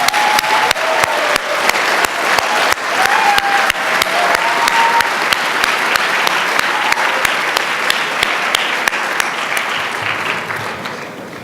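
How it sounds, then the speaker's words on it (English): An awards ceremony audience gives a sustained round of applause, dense clapping filling the room steadily and tapering off slightly at the end, with faint voices underneath. "another round of applause for all of our 18 difference makers"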